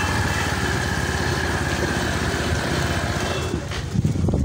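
Motorcycle engine idles close by and loud while the bike is being parked, a steady buzzing putter that trails off near the end.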